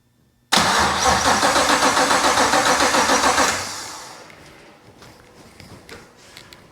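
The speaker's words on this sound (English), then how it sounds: "let me just see if I can at least get it to turn over and start" A BMW 635csi with a 6.2-litre Gen V LT1 V8 and no exhaust fitted cranks with a rapid even starter rhythm for about three seconds, very loud and close, then fails to catch and winds down into faint clicks and ticks.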